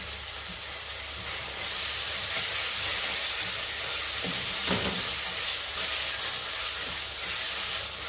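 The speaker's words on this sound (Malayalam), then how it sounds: "അതിലേക്ക് നമുക്ക് ഈ തക്കാളി ഇട്ട് കൊടുക്കാം." Chopped tomatoes go into a hot pan of softened onions on high heat for a chicken curry, a steady loud hiss and sizzle with a few spatters, and no talking.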